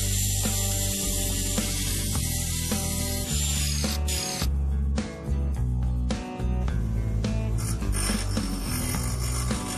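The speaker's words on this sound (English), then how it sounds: "Then I cut off this out of the stainless steel sheet." A power tool cuts a plate from stainless steel sheet with a loud, continuous metallic whine and tonal screeching. The sound dips briefly a couple of times as the cut progresses.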